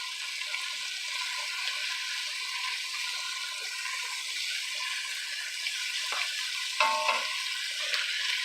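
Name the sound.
meat frying in cast iron pan, stirred with wooden spoon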